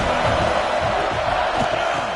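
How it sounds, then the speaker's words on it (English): Loud football stadium crowd cheering and roaring as the home side turns up the noise on second down, a dense continuous wall of voices with whoops rising through it. "this crowd is turning it up a notch"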